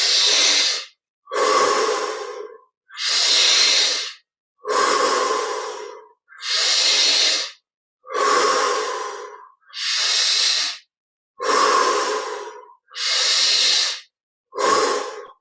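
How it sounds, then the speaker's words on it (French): Deep, slow breaths during a guided meditation session, ten long inhale and exhale cycles in a steady rhythm, close and fairly loud, separated by brief pauses with no talking. "augmentons un peu l'amplitude de la respiration"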